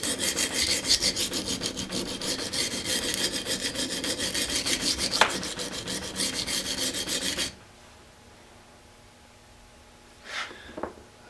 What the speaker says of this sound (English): I'm going to hold this blade at about 15 degrees, and we're going to start grinding this primary bevel in